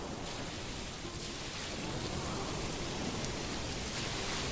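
Stormy rain in the Manor Lords video game pours down as a steady, dense hiss of falling drops, even and fairly faint throughout with no speech.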